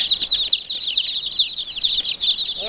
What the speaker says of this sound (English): I can't believe there's 25 chickens in here.